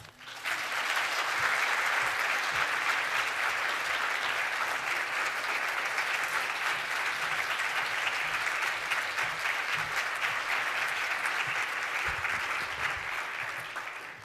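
An audience applauds warmly to welcome Linda Darling-Hammond at a live evening talk at the JCCSF in San Francisco, a steady sustained clapping lasting about fourteen seconds before tapering off.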